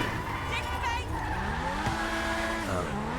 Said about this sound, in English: Sounds like an F1 race car